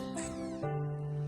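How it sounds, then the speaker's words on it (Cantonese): A single short cat meow, clear and close, with a rising then steady tone, heard alone in a quiet room. "貓叫"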